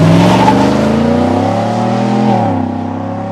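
A Chevrolet Silverado fitted with a Chevrolet Performance catback exhaust revs up loudly, the engine note rising, then dropping and trailing off as the deep, rumbling burble fades.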